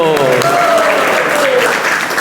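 An audience breaks into steady applause at a spiritual talk, a dense crowd clapping loudly with a voice heard faintly over it.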